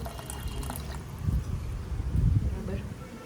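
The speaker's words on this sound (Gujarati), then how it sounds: "હવે આમાં નાખવાનું છે આપણે" Water poured into a bowl of salt, sugar, lemon juice and chillies in a home kitchen, a soft liquid splashing and trickling that swells in two bursts, with brief talk around it.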